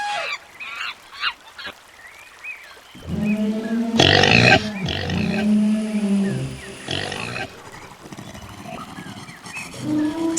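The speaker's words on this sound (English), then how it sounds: "Pig, pig." Pig grunting on a farm in a sequence of farm animal sounds, a series of loud, low, rough grunts running for several seconds after a quieter start, heard alone.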